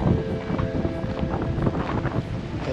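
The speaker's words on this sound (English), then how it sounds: "Here comes that wind." Wind gusting across an outdoor shoreline spot by the bay, buffeting the microphone in a loud, continuous low rumble with fluttering surges and no speech.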